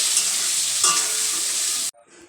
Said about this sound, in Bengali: এদিকে আলুটা ভেজে নেবো